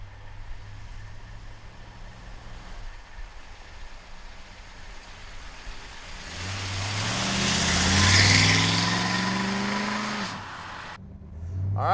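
A 1970 Ford Torino Cobra J idles with a low rumble, then revs up and swells into a loud surge as it pulls away before cutting off abruptly.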